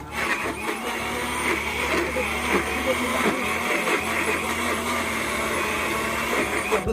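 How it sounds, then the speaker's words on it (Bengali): A blender whirs with a loud, steady motor drone at an outdoor New Year picnic where garlic, onion and ginger are being prepared. It runs close and continuous while people talk over it. "আর এই যে ব্লেন্ডার"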